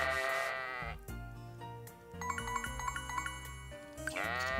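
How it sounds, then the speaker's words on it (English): A sheep bought on a farm in the video game Story of Seasons: Friends bleats with wavering cries at the start and end. Soft, bright game music with plucked notes plays throughout. "And then we bought a sheep, Sharona."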